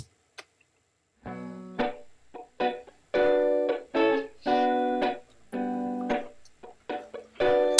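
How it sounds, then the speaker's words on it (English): Soloed rhythm guitar track in GarageBand, recorded dry, strummed chords in short bursts and sustained stretches with gaps between, moderately loud with no voices. "I'm just going to solo the guitar."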